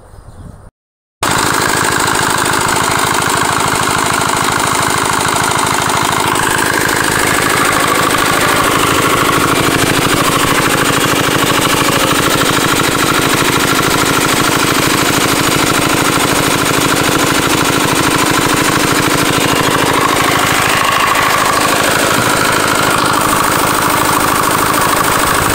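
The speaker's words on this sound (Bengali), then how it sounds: "এটা আমাদের পাওয়ার টিলার" A power tiller engine running near a chilli field, a loud continuous rapid chugging drone with a steady rattling beat. It starts abruptly after a brief moment of quiet and holds nearly unchanged throughout.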